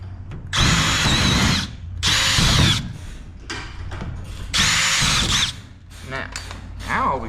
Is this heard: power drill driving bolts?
yes